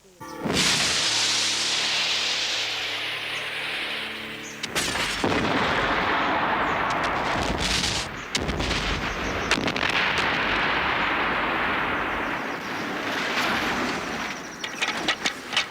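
Model rocket fired as a film effect, with a sudden loud whooshing blast that roars continuously and crackles for several seconds, close by, with a few sharper bangs in the noise.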